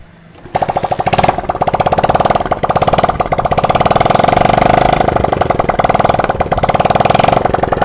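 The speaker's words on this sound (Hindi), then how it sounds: "तो चलिए बाइक को स्टार्ट कीजिए" A Hero Splendor Passion Plus motorcycle engine fires up after a short quiet moment and settles into a loud, steady, rapid idle close by, with its rhythmic chugging continuing throughout.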